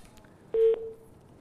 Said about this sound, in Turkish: Evet kapattı hemen telefon